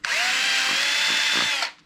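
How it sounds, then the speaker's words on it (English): A power drill bores through soft plastic while wiring switches into a USB power brick for RC lights, a single steady whirring run of close, loud drilling that winds down near the end, with no talking. "The soft plastic is not very grippable on the drill bit."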